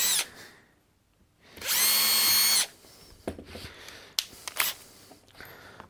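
A power drill whines loudly for about a second as it bores through a wooden board into a cover board on a workbench, followed by scattered clatter and handling noises.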